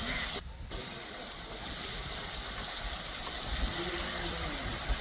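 Loud, steady hiss of hot oil tempering sizzling as it is poured into cooked lentils (dal), continuous and close throughout with no voices.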